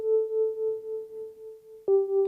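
A mellow Rhodes-style bass preset from the Retro Machines library, played clean with no distortion: one long sustained electric-piano bass note that decays, then a second note struck near the end, alone with no other sound.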